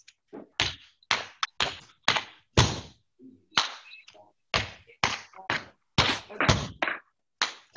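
Crisp tap-dance steps land in quick rhythmic bursts, joined by sharp hand claps, with a brief spoken word partway through.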